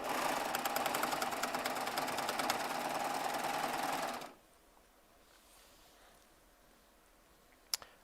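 A Baby Lock Triumph serger runs fast and loud in a steady rapid whir while sewing a jelly roll quilt, stopping abruptly partway through to leave quiet room tone and one small click.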